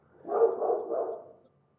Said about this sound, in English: My dog's really upset.